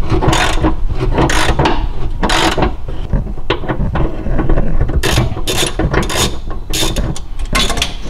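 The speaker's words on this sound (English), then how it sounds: "You're going to need several extensions on a socket wrench in order to do this." Socket wrench ratchet on several extensions removing 18mm rear upper control arm bolts on a 2011-2014 Mustang GT, loud close clicking in repeated bursts of strokes separated by brief pauses.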